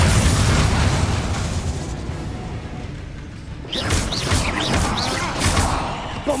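Explosion spells such as Bombarda and Confringo go off in the Hogwarts Legacy video game, producing loud, dense roaring blasts with whooshing bursts and crackling debris, one booming impact rolling into the next, with no clear talking.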